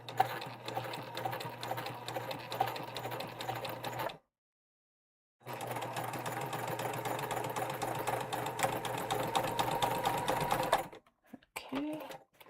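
A sewing machine quilts a fabric tote in fast, steady stitching runs, stopping briefly for a pause, then running again before falling silent with a few faint handling sounds.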